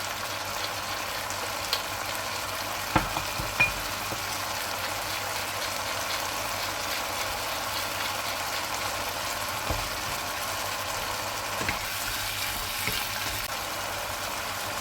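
Frozen vegetables frying in a pan over fairly high heat as their water evaporates, giving a steady, soft sizzle throughout with a few faint clicks and taps of utensils.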